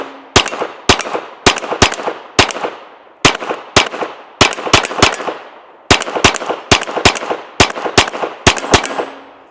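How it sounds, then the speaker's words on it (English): A Smith & Wesson M&P 22X pistol fires about twenty loud, sharp shots in quick bursts with brief pauses between them, each crack ringing out with a short decay, and no one speaks. "that is two 20-round magazines downrange with the M&P 22X"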